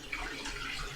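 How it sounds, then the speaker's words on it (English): Chicken broth being poured from a small pot into a medium-sized pot, heard as a steady, fairly quiet splashing liquid stream for about a second with no talking. "we're gonna pour this into the medium-sized pot"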